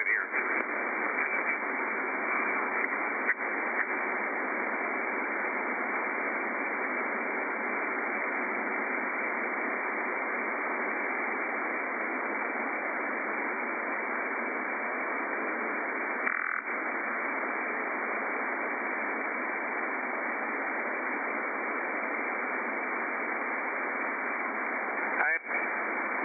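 An SDRplay 1B receiver tuned to 11 and 10 meter skip hisses with steady, dense band-limited static for the whole stretch, with a couple of brief clicks and a short burst midway, and no voice comes through.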